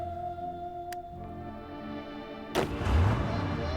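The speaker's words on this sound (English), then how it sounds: "I guess I'm going to have to shoot them all." Gunfire effect in the video game TNO: The Last Days of Europe, a single loud booming burst with a rumbling tail arriving over soft tonal background music after a few quiet seconds.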